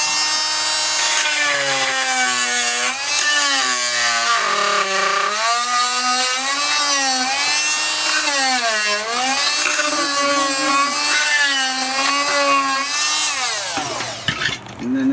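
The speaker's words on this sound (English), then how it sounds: "So here's what happens when you use the oscillator." An oscillating multi-tool cuts out old antique tile with a loud, sustained whine that rises and falls in pitch as it bites, running almost unbroken before stopping abruptly near the end.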